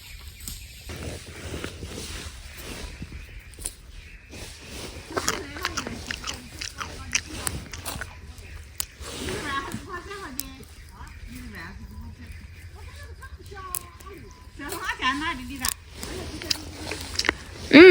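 Crunchy bites and wet chewing on a freshly picked chestnut, close up, repeated through the clip with voices murmuring in the background.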